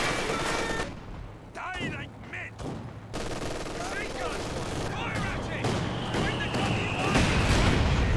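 Mortar fire in Company of Heroes 2, a 2v2 match, with scattered battlefield gunfire and impacts, sharper bursts near the end, heard under excited commentator speech.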